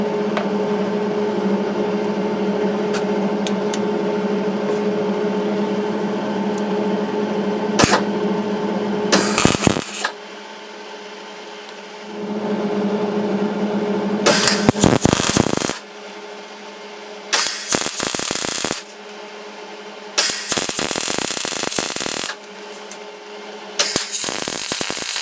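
Welding on a leaking pressure washer wand in a cramped enclosed space: loud bursts of crackling, hissing arc noise repeat in several separate runs of a few seconds each over a steady low hum, with no talking.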